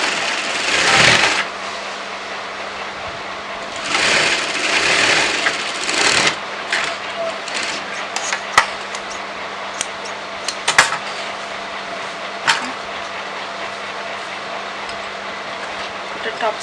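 A sewing machine stitches fabric pieces for a kurti shawl collar with a quarter-inch seam allowance, whirring in short bursts with pauses between them and some handling noises nearby.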